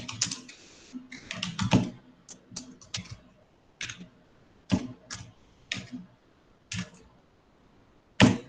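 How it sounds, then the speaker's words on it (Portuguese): Typing on a computer keyboard: bursts of quick clicking keystrokes, then sparser single taps and short runs with pauses between them, close and clear. "vocês devem conhecer esse nome que eu estou digitando aqui"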